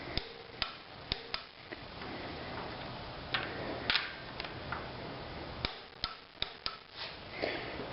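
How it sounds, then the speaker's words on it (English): Torque wrench tightening two bolts to 18 pounds on a Cummins engine during a rebuild, giving a series of sharp, separate clicks and ticks spread unevenly over a quiet workshop background, with no talking. "we're going to come back and torque those two down to 18 pounds"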